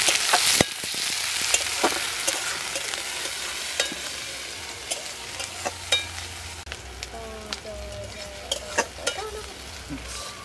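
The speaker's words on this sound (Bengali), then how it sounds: "বড় সাইজের পেঁয়াজ কুচি কুচি করে কেটে নিয়েছি, এবার গরম তেলের মধ্যে দিয়ে দেব।" Finely chopped large onion hits hot oil in a pan, a soft continuous sizzle with scattered sharp crackles and pops, close but fairly quiet, with no one speaking.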